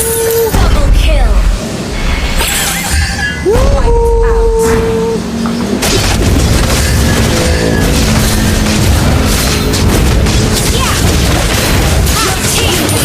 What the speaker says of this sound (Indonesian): Your team destroyed the turret.